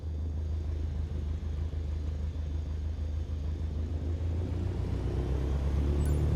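An aircraft engine in Microsoft Flight Simulator throttles up while taxiing, giving a steady, loud low rumble and drone that holds evenly throughout with no talk.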